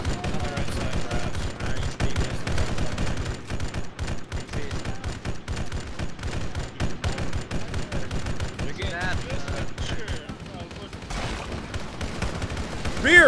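Rapid rifle and machine-gun fire from Marines in the Arma 3 Halo mod, dense overlapping bursts running continuously at close range and loud throughout.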